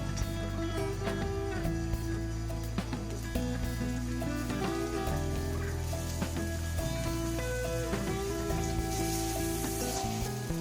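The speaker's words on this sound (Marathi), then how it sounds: "कांदा टमाटर व्यवस्थित फ्राय झालेला आहे" Onion and tomato frying in a pan, giving a continuous close crackling sizzle that runs the whole time beneath steady tonal background music.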